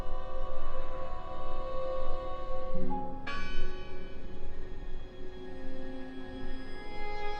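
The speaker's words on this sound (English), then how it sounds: "Listen! The bell!" Bell ringing in the horror game Draugen, heard as sustained, ringing metallic tones that swell in a fresh strike about halfway through, alone, with no talk.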